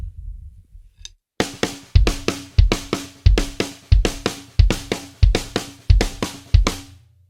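Drums play a fast right-left-left-kick pattern, a quick repeating figure of snare or tom hits with regular kick drum thumps, brisk and close, after a short pause.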